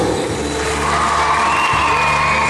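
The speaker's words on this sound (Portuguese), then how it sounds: "Os formandos, salva de palmas aí, minha gente!" At a PROERD graduation ceremony, a hall crowd claps, cheers and whoops for the graduating students, a dense, loud, continuous wash of noise with no clear speech.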